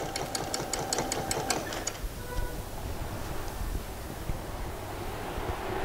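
A sewing machine stitches a short seam close to the fold line of fabric, running in a quick rhythmic burst for about two seconds, then stops, leaving a low background rumble.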